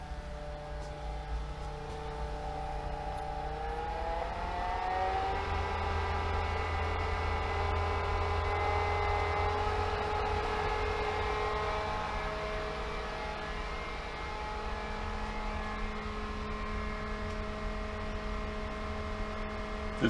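A variable speed pool pump spins up to 2500 RPM, its steady motor hum and whine rising in pitch over a few seconds and then holding constant, loud and close with no voices.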